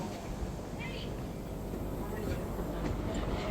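A double-decker train in Sydney rumbles in low and steady, with faint metallic squeals above the heavy rolling noise.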